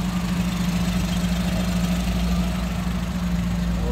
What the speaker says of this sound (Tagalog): Umandar ito ngayon mga boss, Suzuki Palit.